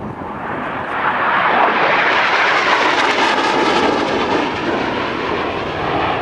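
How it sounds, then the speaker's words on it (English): A McDonnell Douglas AV-8B Harrier II jet roars loudly and steadily at close range during a short takeoff at an airshow, a dense, broad rushing blast that holds for the whole stretch with no voices. "The takeoff you witnessed was called a stow, a short takeoff."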